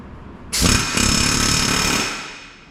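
A loud power tool, likely an impact wrench, bursts on while turning a nut on a Ford F350 front end, running steadily for about a second and a half before winding down, with no talking.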